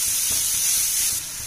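Grated beetroot sizzling in hot refined oil in a pan, a steady bright hiss with faint stirring knocks underneath, dropping slightly in level near the end.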